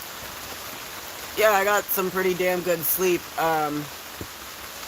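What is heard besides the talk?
heavy rain falling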